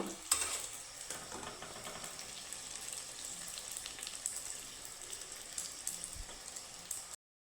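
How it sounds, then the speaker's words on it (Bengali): Flour balls browning in a pan while a spoon moves them around, a soft continuous sizzle with faint scraping throughout, quiet and without voices. "এইভাবে আমি সাইডগুলোকে ভেজে নেব"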